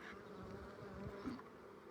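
A dense, continuous buzz of many honeybees swarming close by, a steady droning hum with no voices.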